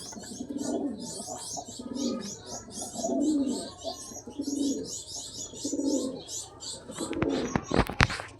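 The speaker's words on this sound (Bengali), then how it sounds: "এটা মাদা, এটা হচ্ছে নর পায়রা।" A pair of pigeons, male and female, coo in repeated soft, rolling phrases close by, with steady high chirping birds in the background and a few sharp clicks near the end.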